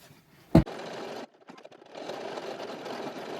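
An embroidery machine sews a placement stitch on medium cutaway stabilizer for shoe or boot wings. A sharp click comes first, then a steady mechanical whirr that pauses briefly and resumes at a constant pace.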